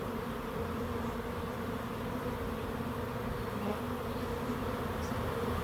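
A sizable honeybee swarm moving into a backyard swarm trap, a dense, continuous buzzing hum from many bees at close range, steady and fairly quiet with no voices.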